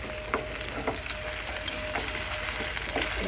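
Ginger and green chilies fry in hot oil, a steady close crackling sizzle with occasional brief stirring scrapes, continuous throughout with no talking.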